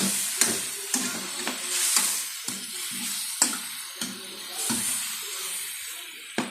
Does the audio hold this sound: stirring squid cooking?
yes